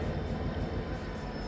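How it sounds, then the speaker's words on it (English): Steady low rumble of a train moving in a railroad video game, continuous and fairly loud with no talk over it. "Move the train."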